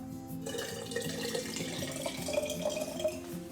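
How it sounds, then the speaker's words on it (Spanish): Water is poured from a tap into a jar, filling it halfway for hydroponic seeds at home; a steady, close trickling and splashing stream runs throughout with no speech. "Y vamos a llenar nuestro frasco por la mitad con agua."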